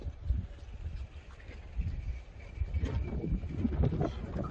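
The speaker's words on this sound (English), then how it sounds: "Quite windy out here." Strong gusty wind rumbles across an outdoor microphone in steady, buffeting low-end gusts throughout, with no voices.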